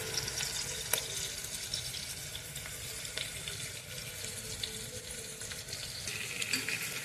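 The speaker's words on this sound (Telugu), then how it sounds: "ఇవి బ్రౌన్ కలర్ వచ్చేంత వరకు వేయించుకోవాలి." Bay leaf, cinnamon and cardamom fry in hot oil in a pan for vegetable biryani, producing a steady, quiet, even sizzle with occasional small pops and no voices.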